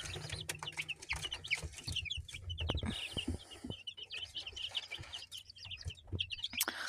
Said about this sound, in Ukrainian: Це такі гарні курочки, чи півники.